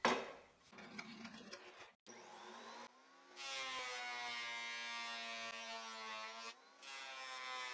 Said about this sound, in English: Next, I'll use the thickness planer to bring everything down to 20 millimeters.